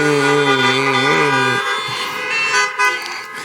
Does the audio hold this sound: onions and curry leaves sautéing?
no